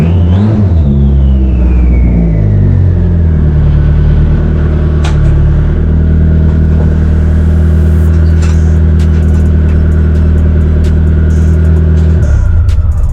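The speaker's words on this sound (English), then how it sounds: "It's got a high idle now, I don't know why." A race car engine idles high in a garage, a loud steady drone with a whining tone that slowly drops in pitch at first and then holds, with a few faint clicks near the end.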